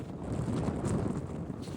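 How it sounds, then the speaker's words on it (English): Strong wind buffets the microphone on an exposed mountain hike in the Cairngorms near Ben Macdui, a continuous loud rumbling roar with no pauses. "It is treacherously windy."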